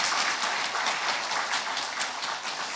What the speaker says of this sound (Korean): 우리 다 함께 큰 박수로 축복하겠습니다